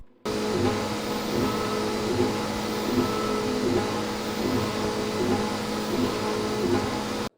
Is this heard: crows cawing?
no